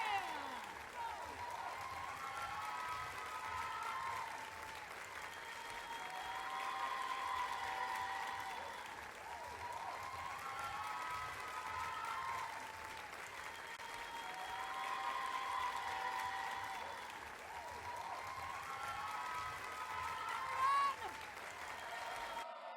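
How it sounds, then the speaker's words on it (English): An audience at a chessboxing event applauds and cheers steadily and loudly for about twenty seconds, a dense wash of clapping with voices mixed in. "Give it up for both fighters, Toto the robot and the Shah."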